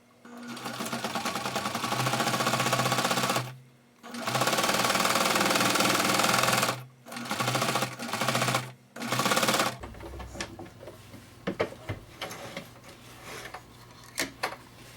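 A sewing machine stitches a fabric pencil case in several loud, rapid bursts of whirring and clattering needle strokes, separated by short pauses, followed by quieter sporadic clicks and handling noises near the end.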